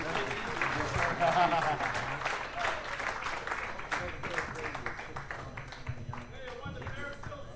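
Audience applause and cheering at a live Clubhouse Live show, dense clapping that starts loud and tapers off, with voices and talk mixed over it.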